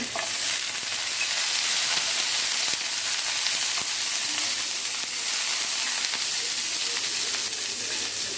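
Chopped garlic, ginger and green chillies fry in hot oil, a continuous bright sizzle and hiss that holds steady throughout, with faint occasional stirring ticks and no talking.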